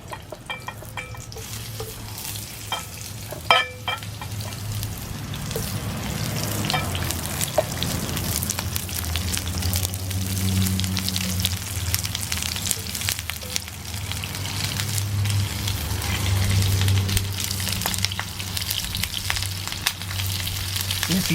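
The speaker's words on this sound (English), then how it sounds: "All right, now we're going to add our onions and get them going." Onions frying in a pan over an open outdoor fire, a steady loud sizzle and crackle that holds for about twenty seconds with occasional stirring scrapes and no talk.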